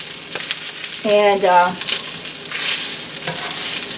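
Ground meat frying in a pan on medium heat while being pressed down, a steady sizzle under a brief voice and a few tonal kitchen clatters.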